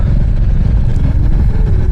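A motorcycle rides in mountain traffic near a landslide detour, its low engine rumble loud and steady up close with other road vehicles around.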